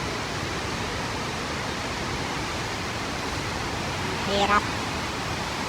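Rushing floodwater and waves from a flood that has nearly broken the dikes pour in a constant, loud broadband roar, with a voice briefly speaking over the torrent near the end.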